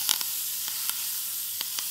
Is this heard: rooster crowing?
no